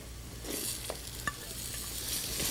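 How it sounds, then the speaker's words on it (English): Rice, beans, vegetables and peas sautéing in ghee with spices, heard as soft continuous sizzling with scraping stirs and a few light clinks, fairly quiet and close with no talk. "let's saute the rice and beans with the vegetables, ghee and spices together for about 2 minutes"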